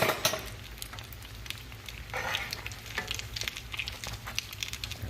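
Fried apple pies sizzle in a hot pan of oil, a steady close crackle with a few brief utensil clinks as they are turned over, no one talking.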